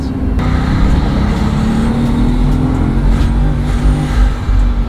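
A 1200-horsepower Bugatti engine revs loud and close on a wet road, a steady sustained roar with a droning low tone that holds throughout.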